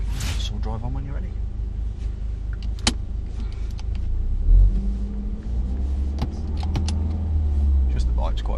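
A learner driver's car pulls away, its low engine rumble steady at first and then building and swelling as it moves off, with faint cabin clicks and a voice or two in the car.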